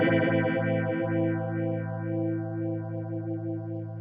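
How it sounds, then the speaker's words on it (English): Electric guitar through a Keeley Verb O' Trem pedal in vibrato mode: a sustained, thick chord with a wavering, swirling pitch modulation and a slightly phasey, distorted edge, ringing steadily and alone. "Mode 5 is vibrato."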